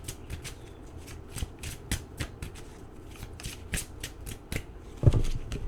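Tarot cards are shuffled by hand in quick, repeated riffling flicks, close and crisp, followed by a louder tap near the end, with no talking.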